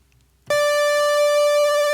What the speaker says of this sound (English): The pulse width on an 8-foot pitch is 50, so it's a kind of a square wave.